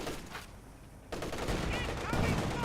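Strafing run gunfire in Company of Heroes 2, a dense burst of automatic fire and explosions starting abruptly after a brief lull, then sustained loud rattling and rumbling mixed with battle noise.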